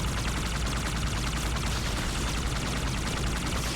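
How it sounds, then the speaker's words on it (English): Enemy gunfire in Halo 2: Anniversary, a dense continuous barrage of rapid shots and crackling weapon fire that holds loud and steady throughout, with no talk. "I keep getting shot by everything"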